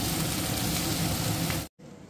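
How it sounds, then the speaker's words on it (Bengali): Onion stalks and potatoes frying in a pan give off a dense, loud, steady sizzle close up for nearly two seconds before the sound cuts off abruptly, leaving a quieter room hum. "এই যে রাতের জন্য পেঁয়াজ কলি আলু ভাজা বসিয়েছি"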